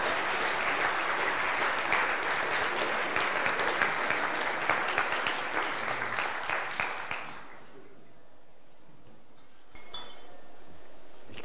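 Audience applause fills a lecture hall at a talk event in Halle, dense and steady clapping for about seven seconds before cutting off into near silence.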